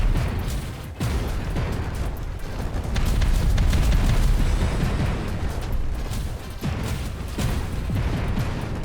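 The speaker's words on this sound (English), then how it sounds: "I like when they explode in the air too." Explosions in the Instruments of Destruction game, a dense continuous rumble of booms and blasts with heavy low roar throughout, loud and sustained, no voices.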